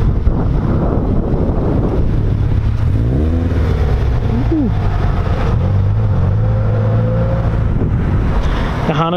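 Honda Accord accelerating and revving at a Subaru car meet in Florida, the engine note rising through gears under steady wind noise and crowd ambience, loud and fairly close.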